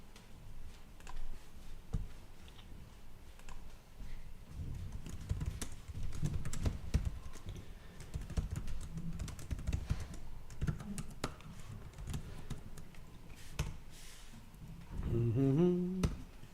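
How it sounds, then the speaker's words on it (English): Typing on a computer keyboard, with quick irregular bursts of soft key clicks and taps close by, continuing steadily with brief pauses and a low hum underneath. "My typing's gotten faster over the years."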